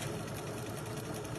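A sewing machine runs steadily, stitching along the line of a Quiltsmart Little Lone Star quilt panel, its continuous whirring motor hum close and even throughout with no talk.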